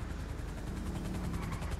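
A helicopter in the video game GTA 5 thrums with a loud, fast rotor chop that pulses continuously and close for the whole moment.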